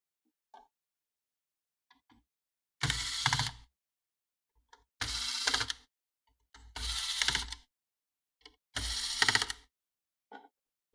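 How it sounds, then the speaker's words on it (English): Screws being turned out of the board holding the GPU heatsink in a Dell Precision M6300 laptop, heard as four separate bursts of close, dry mechanical clicking and ratcheting with short pauses between them. "to unhook the heatsink for the GPU, you have to unscrew the 4 screws that hold in the board"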